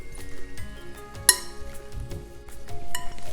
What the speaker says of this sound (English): Just mix it really well.